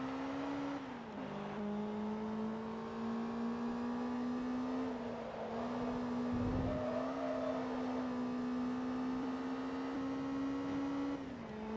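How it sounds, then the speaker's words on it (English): A supercharger whines steadily over a race car engine in Forza Motorsport 2, the tone holding level and sliding briefly in pitch while the engine drones on through the lap. "I just heard the supercharger."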